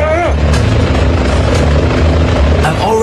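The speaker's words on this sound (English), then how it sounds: "Choppers." Helicopters flying in Spider-Man (2000) on PC, a loud continuous rotor roar with rhythmic chopping pulses filling the scene, with voices mixed in.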